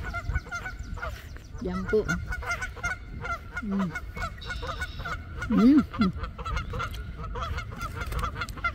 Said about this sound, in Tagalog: Nag-iisang gis na ligaw.